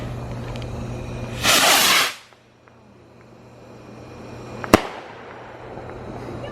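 A big missile firework launches with a loud, bright whoosh lasting about half a second, then after a pause bursts with a single sharp crack, heard outdoors at night.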